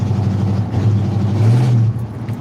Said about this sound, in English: Oh yeah, there's plenty of traffic.